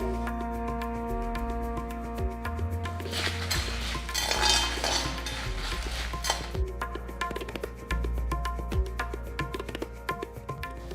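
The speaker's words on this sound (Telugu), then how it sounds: "ఒక మీడియం లో ఫ్లేమ్లో పెట్టుకుని ఇవన్నీ బాగా రోస్ట్ చేసుకోండి." Lentils, coriander seeds and dried red chilies are stirred and roasted in a pan over a medium-low flame, with a steady run of faint metallic scraping and clinking from the spoon against the pan.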